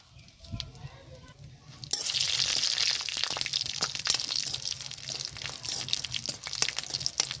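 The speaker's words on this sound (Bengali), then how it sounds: "পেঁয়াজ আর শুকনো লঙ্কা লাল করে ভেজে নিব।" Sliced onion and dried red chillies hit hot oil and fry with a rising crackle and sizzle after a quieter opening, with scattered pops and rustling throughout.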